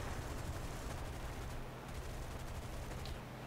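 Rapid, continuous P-400 aircraft cannon fire in War Thunder roars without a break, a dense mechanical rattle of shots layered over a low engine drone.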